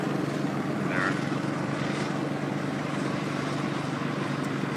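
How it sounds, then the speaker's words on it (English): Sky 5 news helicopter flying overhead, a continuous low rotor drone that stays steady and fairly loud throughout. "So we have our Sky 5 helicopter above"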